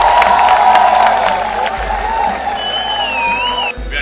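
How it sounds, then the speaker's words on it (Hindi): Audience at a film festival ceremony clapping and cheering loudly, a thick wash of applause with whoops and voices, and a high whistle-like tone sliding through near the end. "ताली बजाओ भाई, क्या करते हैं?"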